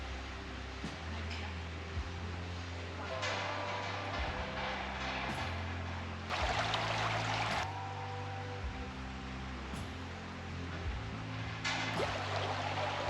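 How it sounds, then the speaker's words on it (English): Creek water flowing over rocks inside a cave gives a steady broadband rush, with louder surging stretches and an irregular low rhythmic rumble beneath. "The creek runs through the cave."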